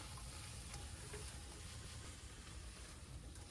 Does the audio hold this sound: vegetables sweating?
yes